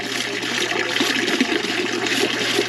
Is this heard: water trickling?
yes